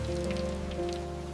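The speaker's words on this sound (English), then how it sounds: "The rain is steady this morning." Steady rain falls in a forest, a soft continuous patter on leaves and ground at moderate level, with a low steady hum running underneath and no voices.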